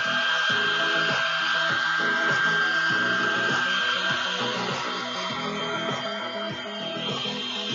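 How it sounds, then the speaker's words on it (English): A hair dryer blows steadily to dry paint on an art project indoors, a constant whirring hum with a thin high whine, moderately loud and unbroken throughout. "I'm gonna use a hairdryer so I can get this done for us."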